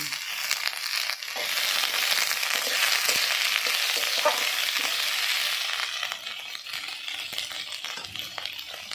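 Onion stalks frying in a pan with a loud, dense, continuous sizzle and crackle, with occasional stirring scrapes, easing somewhat toward the end.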